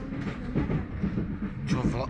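A train rolls along its rails with a steady low rumble and rattle, heard from inside as people chat over it.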